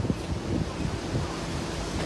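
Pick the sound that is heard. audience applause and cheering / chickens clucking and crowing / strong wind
strong wind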